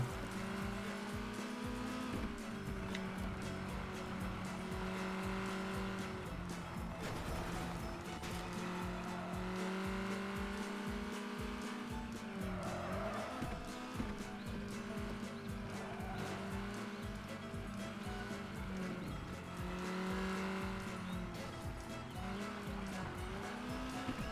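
Car driving in the video game American Fugitive, with a continuous engine drone, repeated tire squeals and skids as it takes turns, mixed with game sound and steady throughout.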